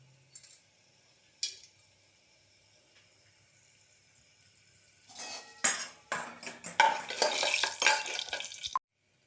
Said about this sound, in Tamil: இப்போ நம்ம இந்த சோம்பு, கிராம்பு, பட்டை, பிரிஞ்சல் எல்லாத்தையும் போட்டு தாளிச்சிடலாம்.